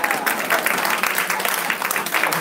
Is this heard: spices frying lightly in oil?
no